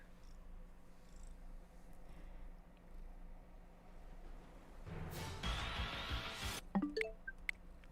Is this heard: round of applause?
no